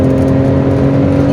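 A 1990s-style Alfa Romeo 164 with the V6 Turbo Busso engine hums loudly from inside the cabin, a steady engine drone with strong low tones and no talk over it.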